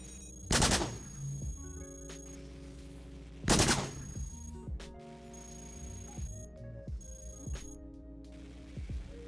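Flak guns fire in the Cogmind game in sharp, repeated bursts with short metallic rattles and ringing tones, two louder volleys standing out among quieter shots, fairly soft overall.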